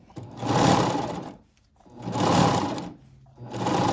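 A sewing machine stitches a leggings hem in close, loud bursts of rapid whirring, stopping briefly between three runs.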